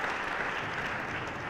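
An audience applauds at a university Hall of Fame induction ceremony, a short, dense wash of clapping that stays steady and fairly loud throughout, with no speech over it.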